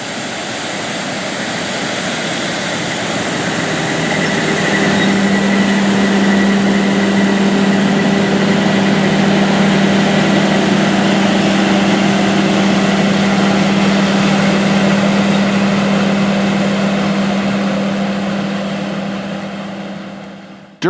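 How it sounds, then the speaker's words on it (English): A John Deere 9670 STS combine fitted with a Shelbourne Reynolds 42-foot stripper header harvesting wheat roars past, a loud steady engine drone with a whining tone that swells as it nears, holds, then fades away. "the farm had two identical John Deere 9670 STS combines in the field."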